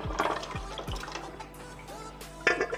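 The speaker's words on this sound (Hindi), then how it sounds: "अब ये जो ग्रेवी है इसको इसमें डाल देंगे।" Gravy for a beef paaye curry is poured into a cooking pot, heard as a few close, wet splashing plops and glugs followed by quieter dribbling and a final splash.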